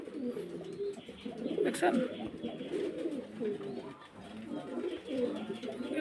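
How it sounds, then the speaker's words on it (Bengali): Pigeons coo repeatedly in a low, steady murmur throughout, close by, with someone talking over them much of the time. "আর এগুলো কোকা আছে মনে হয়, অল টাইম ডাকতেছে শুধু"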